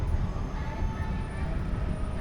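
Monorail rumbling past at a distance outside a mall in Okinawa in the evening, a steady low rail hum blending with ambient crowd and street noise.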